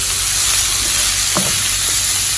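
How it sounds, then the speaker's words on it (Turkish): Vegetables and minced meat sautéing in a hot pan, a steady close sizzle with a brief clink of stirring partway through. "Şimdi bu böyle kavrulsun."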